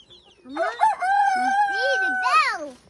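A rooster crows loudly and close by, one long drawn-out call with a rising final note, with no other sound around it.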